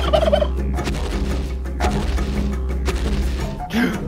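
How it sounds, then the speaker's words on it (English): A turkey gobbles amid a busy scene with scattered whacks and thuds, the warbling call standing out near the end over steady low rumble. "Gobble gobble."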